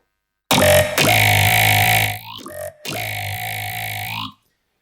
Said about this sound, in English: That's the exact waveform pretty much that I've just made, and it's running through a phaser